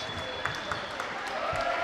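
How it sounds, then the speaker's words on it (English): A round of applause from the crowd at a girls high school basketball game as players come off the court, steady moderate clapping in a gym with a few sharp sneaker or ball thumps mixed in. "The other players getting a round of applause as they step off the floor."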